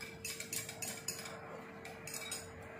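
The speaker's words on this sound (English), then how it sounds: "Then, for our second setup, add salt. Then try to mix it. Mix it thoroughly." A metal spoon stirs salt into water in a container during a classroom science demonstration, giving repeated light clinks and scraping taps in an irregular rhythm, fairly quiet and close, with no talking.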